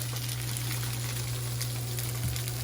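Tofu frying in oil in a pan on a stove, a soft continuous sizzle with a low steady hum underneath, fairly quiet and without talk.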